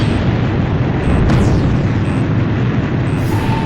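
A missile slams into the player's aircraft in the Ace Combat 5 flight game. The heavy blast roars loud and continuous, with a brief swooping burst near the middle and no talk.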